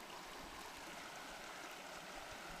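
Steady rushing of flowing water, like a creek running over stones, continuous and even with no voices.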